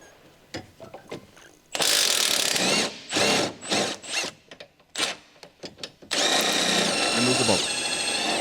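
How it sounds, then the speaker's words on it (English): An electric impact wrench with an 18mm short socket rattles off the front mounting bolt of a lower control arm on a 2015 Ford Escape, loud close bursts of hammering whirr with pauses between them. "Use an 18mm short socket with an electric impact wrench to remove the mounting bolt at the front of the lower control arm."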